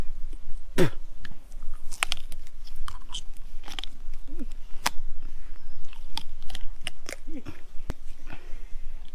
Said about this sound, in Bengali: কাঁচা মুরগি সে কিন্তু একদম কামড়ে সিলিয়ে খেয়ে ফেলতেছে